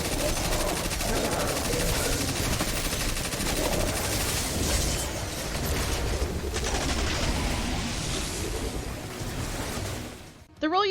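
Escape Velocity submachine gun in Destiny 2 rattles off long, continuous automatic bursts, dense and loud up close, over game ambience, then cuts off abruptly near the end.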